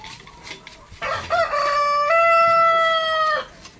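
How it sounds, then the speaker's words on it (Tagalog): Muscovy ducks squabble in a noisy commotion near a bamboo shelter being repaired, giving one loud, drawn-out harmonic call that rises after a short scuffle and holds steady for about two seconds, close by with no talk. "Ayan nagkakagulo yung ating mga pato guys"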